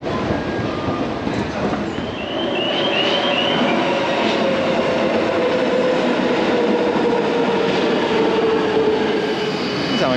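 An Istanbul metro train runs steadily with a loud, continuous rumble of wheels on rails and a rising and falling whine, heard from inside a nearly empty carriage near the end of the line, with no talk.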